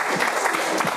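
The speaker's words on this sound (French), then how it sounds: "On l'applaudit bien fort" Brief burst of steady applause from the audience at an art lecture in Lyon, loud and continuous for about a second.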